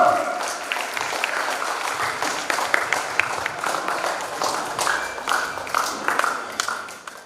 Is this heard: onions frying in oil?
no